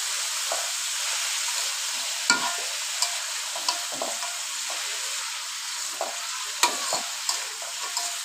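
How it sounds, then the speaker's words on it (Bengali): Chichinga (snake gourd) frying in a pan with cumin paste, coriander powder, salt and green chillies, a steady close sizzle under repeated sharp scrapes and clicks of a spoon stirring and mixing everything together. "ভালোভাবে আমি লাড়িয়ে মিশিয়ে নেব।"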